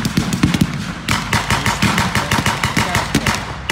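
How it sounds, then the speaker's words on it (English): An MG42 machine gun fires at an airfield battle reenactment, rapid loud bursts of shots in a fast continuous rhythm with brief pauses between strings. "MG42."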